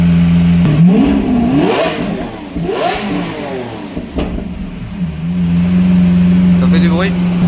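A Lamborghini Aventador V12 engine idling at a loud steady rumble, then revved hard in rising and falling sweeps before settling back to idle, close and loud, with someone speaking over it.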